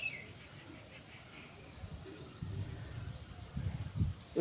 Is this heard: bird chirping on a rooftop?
yes